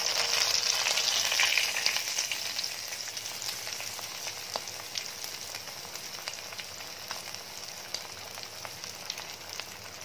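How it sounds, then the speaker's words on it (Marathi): Prawns frying in hot oil in a pan for Schezwan prawns make a loud, continuous hiss and crackle, strongest at first and then settling into a steady sizzle with scattered pops, close and alone. "उरलेले प्रॉन्स पण आपल्याला अशाच प्रकारे सगळे तळून घ्यायचे आहेत."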